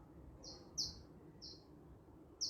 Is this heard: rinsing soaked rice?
no